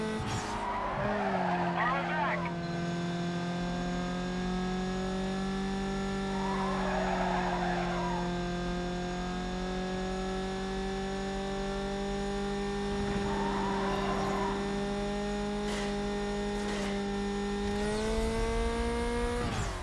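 A race car in Need for Speed: Carbon on PS2 drones with a steady engine whine while tires squeal and skid in short bursts under braking, with a player talking over the game sound.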